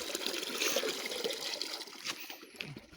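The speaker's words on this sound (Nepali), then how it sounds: "यो चाहिँ मूल चाहिँ त्यहाँबाट चाहिँ पानी आउँछ" Water trickling from a natural spring beside a forest path: a soft, continuous, gurgling flow, faint and close, with no talk.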